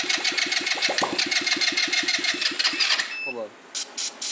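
A homemade tandem scooter engine cranks over in a fast, even chugging rhythm, then fires briefly and sputters before a few sharp bursts, close by, with people talking over it.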